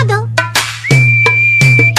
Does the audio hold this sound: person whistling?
yes